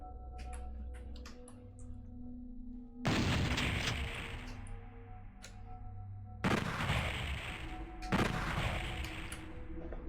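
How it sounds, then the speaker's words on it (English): In the game Doom 64 Retribution, a Cyberdemon fires from behind a wall, sending out three heavy booming blasts spaced a few seconds apart over a steady in-game hum and small clicks. "Sounds like the cyber demon's on the other side of that wall."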